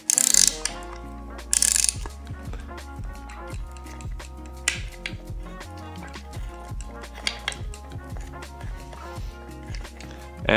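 Screws being driven to fasten a brake onto the fork of a high-end Bossi Strada SS road bike, heard as a long run of crisp ratcheting clicks in quick irregular bursts, close and clear, with a few louder knocks.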